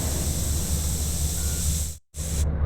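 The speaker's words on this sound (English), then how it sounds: "CJ and Sweet spray paints their mark over the Ballas and goes back to the Grove." Steady aerosol hiss of spray painting graffiti in GTA San Andreas, continuous and close, broken by a brief silent gap before resuming.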